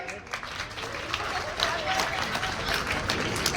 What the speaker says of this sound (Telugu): అందరికీ ఒకసారి గట్టిగా క్లాప్ కొట్టండి